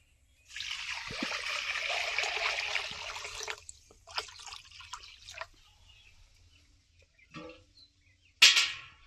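Water poured into a cooking pot of vegetable moong dal khichdi: a steady trickling pour for about three seconds, then short splashes and drips, and a final brief splash.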